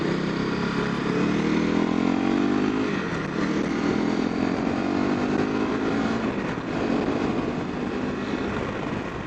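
A Honda CRF 250 Rally motorcycle engine hums steadily and loudly on a ride, its pitch rising through a gear, dropping slightly near three seconds, then climbing again, with road and wind noise under it and no talk.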